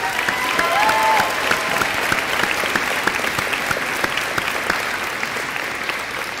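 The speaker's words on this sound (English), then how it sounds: "I would want a round of applause for Coach Garrison" Steady audience applause at a spring sports awards ceremony honoring Coach Garrison, dense and sustained clapping from a crowd throughout, with a brief faint voice near the start.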